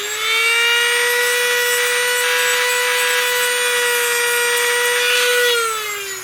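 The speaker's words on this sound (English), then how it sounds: "But be careful cutting this. This is hardened plastic" A small motorized cutting tool whines steadily through the hardened plastic of a vintage 1959 Jouef HO scale model wagon, giving a loud, sustained high-pitched tone with a gentle rise and fall in pitch before it winds down.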